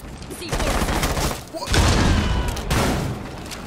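In Rainbow Six Siege, a burst of rapid gunfire shoots up a turret gun, with loud cracking shots and thuds that come in two or three dense waves over a few seconds.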